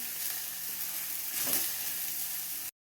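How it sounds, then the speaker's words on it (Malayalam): Finely chopped okra sizzles steadily in a hot pan, a close, even crackling hiss with a brief swell midway as it's stirred. No voices. "വെണ്ടയ്ക്ക നന്നായിട്ട് അതിൻ്റെ വഴുവഴുപ്പൊക്കെ പോണത് വരെ വഴറ്റി കൊടുക്കാം."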